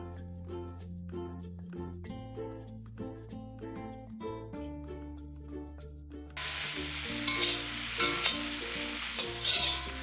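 Fried chicken pieces stirred with garam masala in a pan, soft sizzling under background music, the frying hiss growing louder and denser in the second half.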